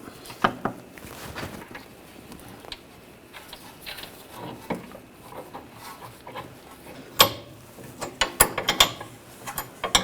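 Bolt on a 2009-2017 Volkswagen Tiguan rear shock absorber being tightened by hand, a series of close mechanical ratcheting clicks and metal taps, irregular at first and then bunching into quick bursts near the end, with no talking.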